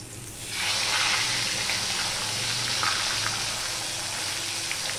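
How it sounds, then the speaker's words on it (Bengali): Pomfret fish frying in oil in a pan starts with a soft hiss that swells into a steady, moderately loud sizzle and holds to the end. "একটু মাছটা ভাজা হতে থাক আর আমি তেলটা সাইড করে নেব"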